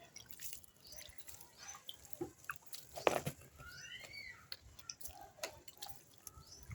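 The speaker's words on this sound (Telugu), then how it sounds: "ఇలా ఇప్పుడు నీళ్ళు జిమ్మేసుకున్నాం." Water is sprinkled onto potting soil in a tub, giving faint, scattered drips and soft patters with a few sharper splashes.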